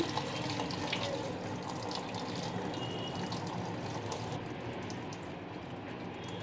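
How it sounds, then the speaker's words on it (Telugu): Water is poured off soaked rice during mutton biryani preparation, a steady splashing, trickling stream that runs continuously at low level, close by. "ఈ నీళ్ళు వంచేసుకుంటున్నానండి బియ్యం నానబెట్టిన కదా"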